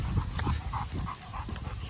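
A German Pointer hunting dog pants steadily and close by, quick rhythmic breaths filling the whole stretch with no talk.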